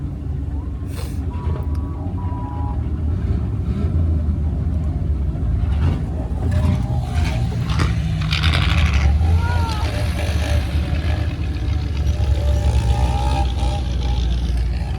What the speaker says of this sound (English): Car parade.